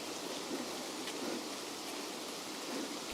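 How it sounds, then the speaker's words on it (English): Steady rain hisses in Escape From Tarkov, a constant even wash of drops with no talking and only faint brief ticks standing out. "It's raining, man."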